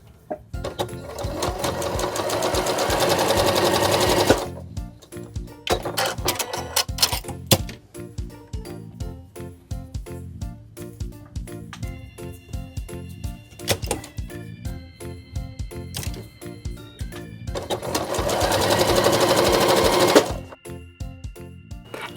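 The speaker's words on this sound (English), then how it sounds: "I'm just going to fold over the edge and stitch it down with a straight stitch." A sewing machine runs a straight stitch along a folded fabric edge, with steady fast whirring runs separated by pauses and small clicks and handling noises, close up and alone.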